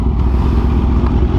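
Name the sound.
Kawasaki H2 motorcycle engine roaring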